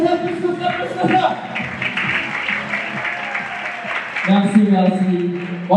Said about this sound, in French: Faites un maximum d'applaudissements pour celui qu'on appelle Rick Foster